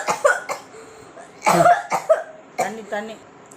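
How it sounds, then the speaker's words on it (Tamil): A person coughs several times in separate bursts, close and fairly loud, with short pauses between the coughs. "லைட்டாக இருமல் வந்துருச்சு."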